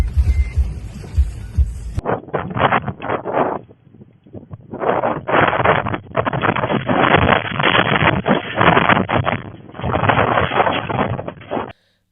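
Strong hurricane wind roars and buffets the microphone in a steady, loud rumbling rush that swells and dips for several seconds, close and without talk.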